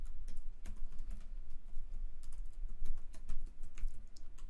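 Fingers typing login details on a computer keyboard: quick, irregular key clicks run steadily throughout, moderately close, with no talking.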